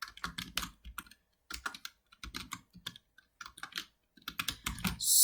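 Rapid bursts of keystrokes on a computer keyboard as a MySQL query is entered, close and clear, coming in several clusters separated by short pauses.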